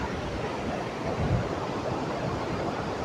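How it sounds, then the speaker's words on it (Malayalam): Steady, loud rush of turbulent river water below Bhoothathankettu Dam in Kothamangalam, Kerala, a continuous broadband roar with no pauses and no voices. "ഇവിടെ നല്ല വെള്ളം കുത്തി ഒലിച്ച് പോകുന്നതിൻ്റെ ആ സൗണ്ട് കേട്ടോ"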